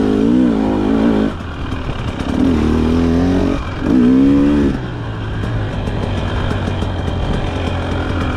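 A 2024 Husqvarna 300 TE two-stroke motorcycle with TBI fuel injection runs close by, its engine note climbing and falling through repeated revs over a steady running drone, with no voices.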